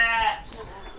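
A goat on a livestock farm gives one close, wavering bleat that fades within a fraction of a second, with faint room noise after it.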